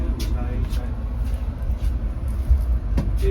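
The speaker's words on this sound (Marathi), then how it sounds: "चला निघाली ट्रेन आमची" A low, rumbling train moves along steadily beneath people talking nearby.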